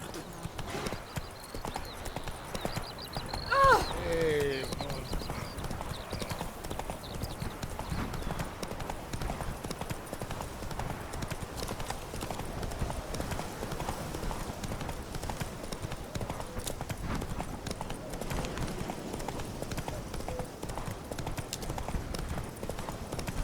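Horse hooves clip-clop steadily at a moderate distance in The Witcher 3, a quiet, continuous trot under ambient game sound, with a brief voice near the start.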